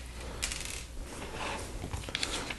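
A small plastic Lego coin piece from a Lego Friends Heartlake Hair Salon set drops and clinks with a few light, bright taps, close and moderately loud, with faint handling rustle around it.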